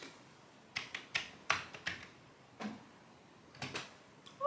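Keys clatter on a Commodore 64 keyboard in about ten distinct, moderately loud presses at an uneven typing pace. The keystrokes are close and heard alone, without talk.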